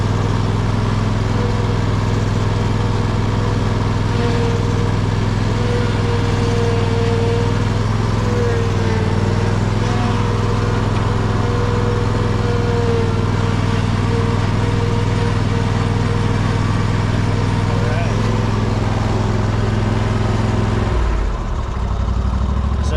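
A Bad Boy Magnum riding lawn mower engine runs steadily and loud nearby, with a constant low drone and faint speech over it, then drops off sharply near the end as it idles down.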